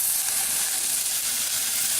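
Onions and garlic frying in a pot, a steady close hiss and sizzle with no pauses and no voices.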